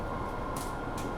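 A subway train rumbles steadily through a tunnel, a continuous low roar with faint hissing bursts, running throughout with no voices.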